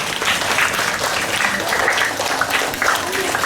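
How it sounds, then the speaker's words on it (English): A school assembly audience on non-violence, with Class 4 pupils, claps in dense, steady applause that stays even and loud throughout. "Let's give ourselves a big round of applause."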